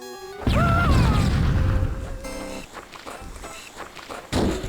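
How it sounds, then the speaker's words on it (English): Grenade blasts flipping a Warthog in the Halo game, a heavy crash and boom with a rising whine, then clattering impacts and a second blast near the end, with a voice faintly present. "how many grenades does it take to flip a warthog?"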